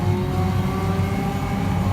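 A steady, droning car engine in the video game Need for Speed on PlayStation 4 hums at a constant pitch, fairly loud, with no voices over it.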